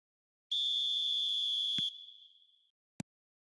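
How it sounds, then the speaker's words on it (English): A referee's whistle sounds in a football video game, one clean sustained tonal blast of about a second and a half that fades, followed by a sharp click, with no talking. "There's the whistle"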